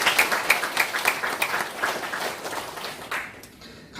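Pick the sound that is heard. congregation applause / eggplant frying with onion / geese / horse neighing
congregation applause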